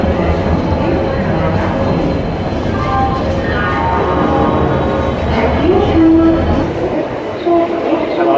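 A crowded train station where trains rumble and clatter beneath a constant roar of the crowd, with a horn-like tone rising near the end and voices mixed in throughout.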